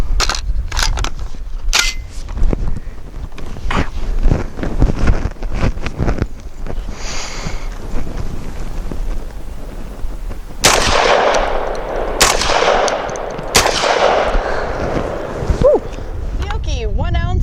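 Genesis Arms Gen-12 AR-10 style 12 gauge shotgun firing Federal Premium Low Recoil 1 ounce slugs outdoors, several loud sharp reports in irregular succession, with the later shots spaced a second or two apart amid wind noise.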